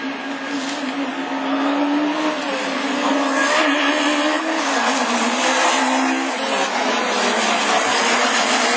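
Super 1600 rallycross cars racing and drifting at a French championship round, loud sustained engines howling and revving with tire squeal, a continuous close roar that swells slightly midway and holds to the end.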